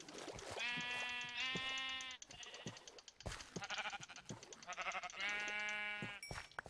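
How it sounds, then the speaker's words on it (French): Sheep in the video game Minecraft bleat repeatedly in loud, close, wavering calls, several overlapping in bursts with brief gaps and clicking game noises between them. "Ah tiens, un mouton."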